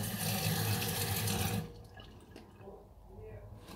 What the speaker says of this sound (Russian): Можно промыть водой.